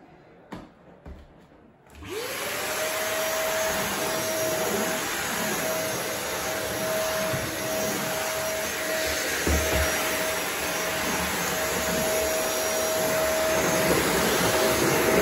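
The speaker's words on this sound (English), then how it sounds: "one time you will do the vacuuming and at the same time wiping the floor" After a few soft knocks, a vacuum cleaner switches on and runs loud and steady while vacuuming and wiping the floor, a constant roaring whir with a sustained motor whine throughout.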